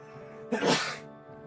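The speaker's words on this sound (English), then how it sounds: "I'm gonna sneeze again." A single sharp sneeze bursts out up close, a quick breathy explosion fading after about half a second.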